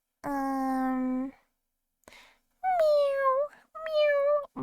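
Robot toy cat giving a series of short electronic meows, clean, tonal and close, with brief pauses between them.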